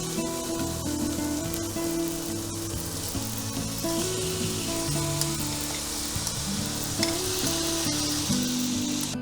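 Chicken poured into a hot pan for malai chicken, a loud continuous sizzle and frying hiss mixed with stirring scrapes and a droning background tone, no talk over it.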